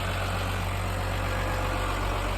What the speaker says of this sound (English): Now we're just trying to jump start the tractor so we can drive it back in.